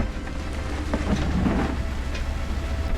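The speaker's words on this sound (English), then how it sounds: "It started raining and hailing really heavily" Heavy rain and hail pelting a 4x4 vehicle on a muddy trail, a dense steady drumming roar with scattered sharper impacts, heard from inside, no talking.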